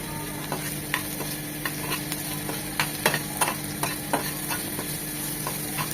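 Chopped onions sizzle steadily in a hot pan for paneer masala, with a spoon scraping and stirring at irregular intervals over a constant frying hiss, close and moderately loud.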